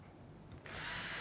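A power drill drives a large screw into solid wood while building a bookshelf; the quiet background gives way to a sudden loud, steady whir that holds for about half a second.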